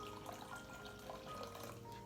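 Warm water runs from a tap into a heat-proof bowl, a soft, steady filling stream heard alone at low level.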